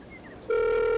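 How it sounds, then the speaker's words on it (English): A phone gives off its operating tone, a steady electronic beep that starts abruptly halfway through and holds loud and constant to the end, after a quieter stretch of faint background noise. "Sound of the phone's functioning."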